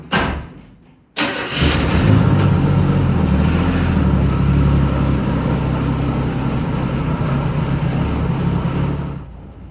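A Chevy C10 square-body truck, a forest find being rebuilt as a street cruiser, cranks briefly and catches, then its engine runs loud and steady, rumbling close by.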